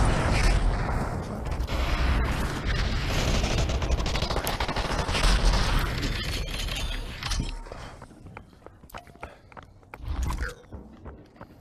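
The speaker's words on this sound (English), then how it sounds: "I hear rockets getting launched everywhere." Rockets launched across a battle royale match in the VR shooter Population One: dense, continuous gunfire and explosive bursts that later thin into scattered sharp shots and one heavy thump, with faint voices underneath.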